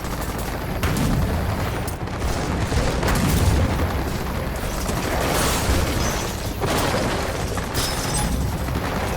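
Airstrike explosions in the video game Gears of War 4 rumble through a dense, unbroken barrage of loud booms, with several heavier blasts rising out of the continuous roar.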